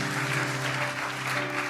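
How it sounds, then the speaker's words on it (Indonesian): Church congregation applauding during a worship service, a dense, steady wash of clapping that fills the whole short stretch with no pauses, with low musical tones sustained beneath it. "Kasih tepuk tangan yang paling dahsyat."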